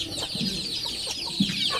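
A one-year-old Male Sims breed rooster on a gamefowl farm clucks in a few low, short bursts over a steady background hiss, with no voices present.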